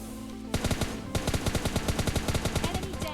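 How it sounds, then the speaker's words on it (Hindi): Automatic gunfire in the PUBG Lite video game, a quick burst followed by a longer run of rapid, evenly spaced shots, loud and sharp with no talk. "मुझे पीछे की तरफ से फायरिंग की साउंड आती है"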